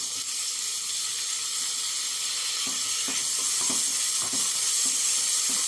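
Garlic and tomato go into a pan with onion, setting off a steady, close sizzle of frying that is joined by a few soft scrapes of stirring. No voices.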